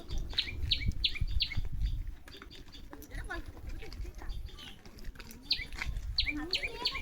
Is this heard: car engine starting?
no